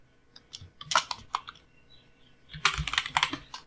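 Rapid bursts of keystrokes on a computer keyboard during an HTML coding lesson, close and crisp, in two clusters separated by a short pause, with no talking.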